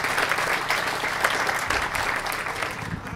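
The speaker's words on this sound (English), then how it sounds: "A round of applause" Applause from a corporate audience at a comedy show for an airline, a thick steady roar of many hands clapping at once, loud and sustained throughout.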